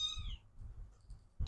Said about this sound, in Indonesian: Kedengaran gak sih teriakan kucing, anak kucing?